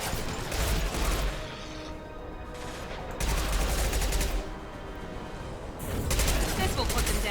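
Bursts of rapid gunfire from a gun in the video game Mass Effect 2 come in three loud, sustained volleys separated by short, quieter gaps, with some background game noise between them.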